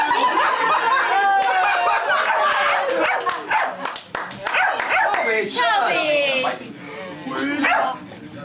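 A dog whimpers and gives high yips and short barks again and again, mixed with people talking and laughing close by.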